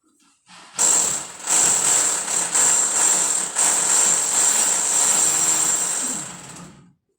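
A vacuum cleaner runs steadily for about six seconds with a loud, continuous whine and broadband roar, starting up abruptly and cutting off near the end.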